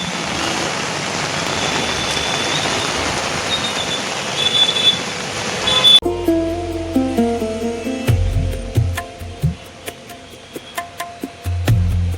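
Heavy monsoon rain pours in Mumbai's Fort area near Churchgate station, a dense, steady hiss for about six seconds before it cuts abruptly to other, more tonal sounds.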